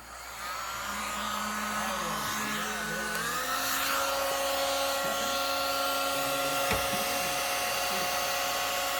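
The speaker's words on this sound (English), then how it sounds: "My Wagner heat gun on high." A Wagner heat gun on its high setting blows with a steady, loud whine and airy roar that holds constant throughout, close to the microphone.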